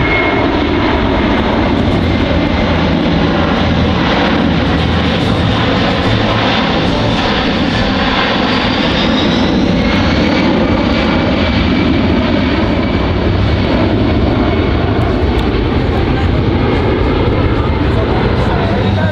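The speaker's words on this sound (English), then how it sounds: "the slow flyby, courtesy of the C-17." A Boeing C-17 Globemaster III jet makes a slow flyby at the Dover airshow, its engines a loud, sustained roar that swells and shifts in pitch as it passes overhead, with a public-address announcer talking over it.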